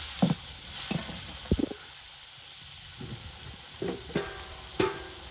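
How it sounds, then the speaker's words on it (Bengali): Small river fish fry in a pan with turmeric and salt while being stirred, a soft background sizzle punctuated by a handful of scraping clinks of a spatula against the pan, fairly quiet and close. "ভালোভাবে নেড়ে চেড়ে নিব"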